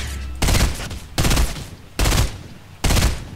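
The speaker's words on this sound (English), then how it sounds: "He's shooting at you." Gunfire in Fortnite, four separate loud bursts of rapid shots spaced roughly a second apart, each ringing out briefly before the next volley.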